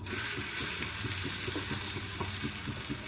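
Chopped onion frying in hot homemade mustard oil for a beef bhuna, giving a loud, steady sizzle with fine crackling that runs unbroken throughout.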